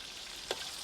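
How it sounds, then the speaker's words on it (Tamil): Garlic frying in hot oil for an okra dish gives a faint, steady sizzle and crackle, with one small tap or pop in the middle, and no talking. "உள்ளியையும் பொரிச்சு போட்டு"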